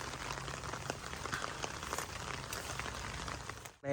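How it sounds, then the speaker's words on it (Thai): Steady hiss of heavy rain falling, a dense even patter throughout with a few louder drops, no voices, ending in a brief handling bump. "ฝนตกหนักอยู่เนาะทุกคน"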